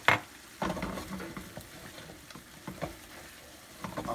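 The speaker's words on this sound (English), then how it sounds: "I'm going to add the anchovies now" Anchovies and tomato paste fry in a pan with cauliflower and mushroom pasta, stirred in uneven bursts of sizzle and scraping with a few utensil knocks, fairly quiet, no voices.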